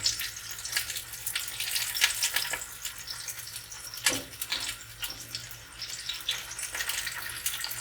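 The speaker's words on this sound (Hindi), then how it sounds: "मैंने ऑयल लिया है और अब मैं इसमें गार्लिक ऐड कर रही हूँ" Finely chopped garlic frying in about two tablespoons of oil gives a steady, soft sizzle with scattered crackles and one sharper pop partway through, close and fairly quiet.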